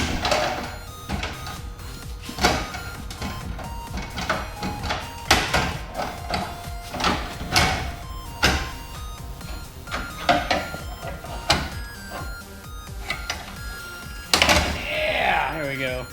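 Parts being pried out of a Mazda Miata during teardown, with repeated sharp clicks, knocks and scraping bursts at close range, mixed with rustling and a short metallic rattle near the end.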